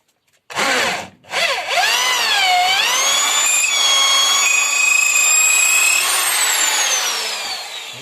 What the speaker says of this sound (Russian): высверлим дырочку, отверстие